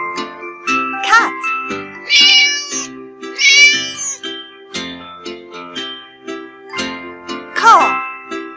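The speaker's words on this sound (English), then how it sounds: "cat" A cat meows several times in separate drawn-out calls, near and clear, over light jingling and a voice.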